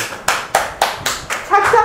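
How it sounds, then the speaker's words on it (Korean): A short burst of clapping at a Sunday Buddhist dharma service, several sharp claps in quick succession at close range, the last moment blending into a brief murmur of voices. "박수 한번 칩시다."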